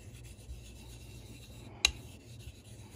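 Quiet, faint rasping rub of a razor working slurry across a wet coticule honing stone, soft and steady, with one sharp click partway through.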